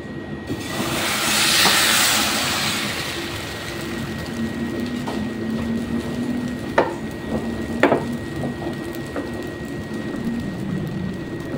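Dadar gulung batter ladled into a hot pan hisses in a loud burst that settles into a steady, close sizzle, with a few sharp clicks of utensils against the pan.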